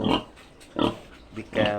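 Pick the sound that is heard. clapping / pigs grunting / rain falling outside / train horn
pigs grunting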